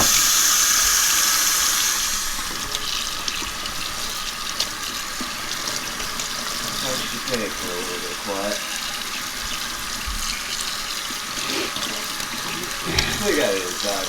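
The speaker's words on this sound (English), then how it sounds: "We got it inside now with the warm water." Warm tap water runs indoors into a sink to rinse a tie-dye tee, a steady loud gush with splashing and handling noises, while people talk over it now and then.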